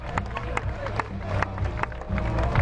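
A spectator crowd at an outdoor motorcycle trial event claps and cheers in a brief burst of scattered applause, with babble and a voice over the loudspeaker mixed in.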